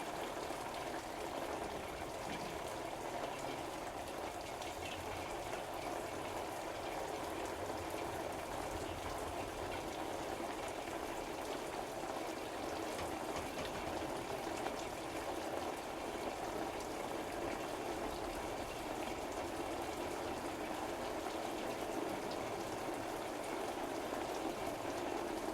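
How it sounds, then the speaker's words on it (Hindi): Artificial rain pours steadily onto a television serial set, a constant dense hiss of falling water and drops with no speech. "रोलिंग बारिश"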